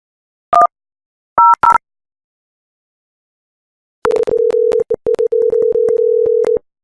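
Touch-tone beeps dial out over a VoIP softphone to an interactive voice response system, followed by a steady ringback tone with brief breaks, clean and loud with no talk.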